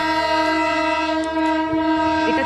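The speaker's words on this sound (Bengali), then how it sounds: "অ্যাকচুয়ালি এখন টয় ট্রেনটা নেই, এটা খালি ওর ইঞ্জিনটা বেরিয়েছে।" A Darjeeling Himalayan toy train locomotive running alone on a trial run near Kurseong sounds a loud, sustained horn, steady and close, with a faint rumble underneath.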